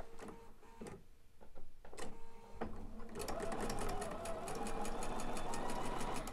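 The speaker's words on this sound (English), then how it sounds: "So here we are at the sewing machine. So we'll sew these little squares down first." Sewing machine stitching small quilt fabric squares with a 1/4 inch foot for a star quilt block, a steady rapid mechanical whirr and tick running continuously for the latter half after some quieter handling clicks, close and loud.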